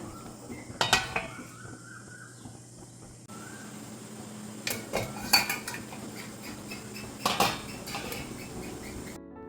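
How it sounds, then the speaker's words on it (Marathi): Egg masala gravy is stirred in a pan, with a metal spoon clinking and scraping against the pan in short irregular bursts over a quiet background and no speech. "आता हे सर्व आपण चांगलं घाटून घेऊया"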